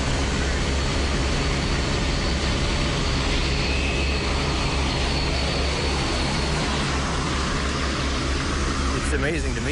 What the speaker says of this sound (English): The B-17 Flying Fortress, the bomber that brought the war to Germany.